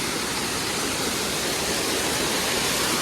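A hidden waterfall near Panshet Dam in the Varasgaon area roars as a dense, constant rush of falling water, loud and close, with no voices over it.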